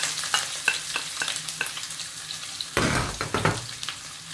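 Onions tossed into a hot pan and stirred, soft sizzling with scraping utensil taps near the start and a louder burst of frying hiss midway, close and fairly quiet.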